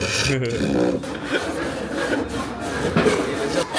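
A hand saw rasps back and forth through wood in steady strokes, close and fairly loud, with a voice briefly audible in the background.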